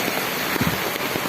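Heavy rain pours down in a dense, steady hiss with close patters of drops hitting surfaces, loud and continuous.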